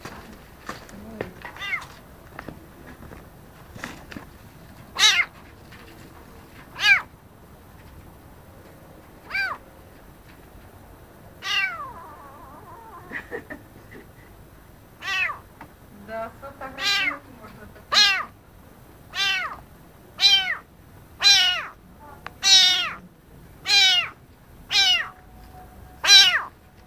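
A stray kitten meows repeatedly, with sparse calls early on that become a rapid, regular series of sharp, fairly loud meows toward the end, over a quiet background.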